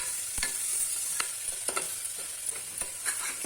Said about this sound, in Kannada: ಟೊಮೆಟೊ ಚೆನ್ನಾಗಿ ಸಾಫ್ಟ್ ಆಗೋ ತನಕ ಫ್ರೈ ಮಾಡ್ಕೊಳ್ಬೇಕು